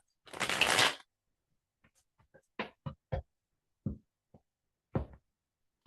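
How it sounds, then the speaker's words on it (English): A deck of cards is riffled in one loud, dense burst, followed by a series of soft separate taps and clicks as the cards are squared and handled close by. "I didn't get to shuffle all my cards."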